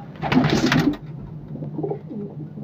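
A short burst of wing flapping, then soft low cooing from nearby thick-beaked flying pigeons at a breeder's loft, continuing quietly.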